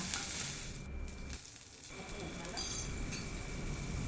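Green chili paste frying together with ginger-garlic paste in a pan for samosa filling, a steady broadband sizzle holding throughout with a brief dip midway, close and moderately loud.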